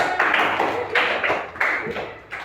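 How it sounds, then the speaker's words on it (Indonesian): A fourth-grade class in a primary-school lesson claps in several short, loud bursts, each rising and fading in turn. "Oke, tepuk tangan."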